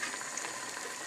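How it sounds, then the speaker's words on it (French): Water for rice boiling in a pot on the stove, a faint, continuous bubbling hiss with small irregular pops, steady for its short length and with no voices. "l'eau de votre riz commence à bouillir"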